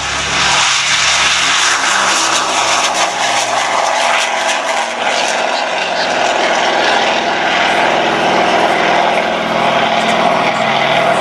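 Four-engine propeller airliner with 2,500-horsepower Pratt & Whitney radial engines rolling along the line at an air show, a loud, steady, dense drone with throbbing propeller beat that holds throughout without talk.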